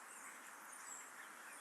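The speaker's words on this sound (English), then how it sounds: "A good call brings more ducks. A bad call brings fewer ducks." A duck call from the Duck Dynasty video game: a faint, raspy, hissing call held steadily throughout, with no voices.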